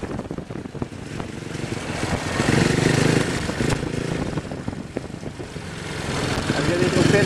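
A speedway motorcycle rides along the finish straight at Pardubice, its engine a steady, rough drone that swells and eases slightly, fairly close and continuous throughout.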